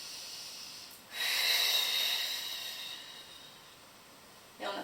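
A person breathes in and blows out hard during an abdominal exercise with a ball, one long close, breathy exhale swelling then fading, followed by the start of another breath.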